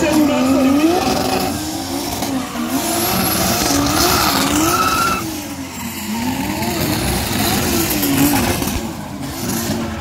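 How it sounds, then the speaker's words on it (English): A car drifting at a large drift event in Trinidad, with loud sustained tire squeal wavering up and down and a roaring engine, close and continuous, while a commentator speaks over it. "And this guy is what is called phantom drifting."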